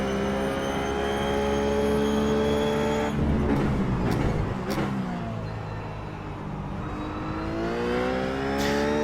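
A race car at Motegi at night in iRacing: a close, steady high engine whine that drops and climbs again through gear changes and braking, with a few sharp clicks or shifts in between.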